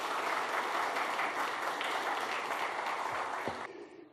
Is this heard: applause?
yes